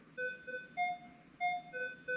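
A metal detector sounds over a zinc memorial penny, giving repeated clear electronic tones in short bursts that shift between two pitches, fairly faint against a quiet background.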